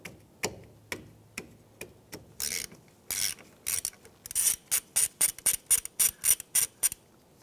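A ratchet loosens the 12 mm banjo bolt on a front brake hose of a 2003-2011 Honda Element, with a few spaced clicks followed by a quick run of crisp, close ratcheting clicks and no talk.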